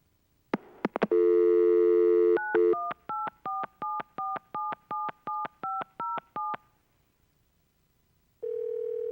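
A board meeting conference phone dials out: a few clicks, a dial tone, then a quick run of touch-tone DTMF beeps in a steady rhythm, ending in a held tone, clear and close with no talking.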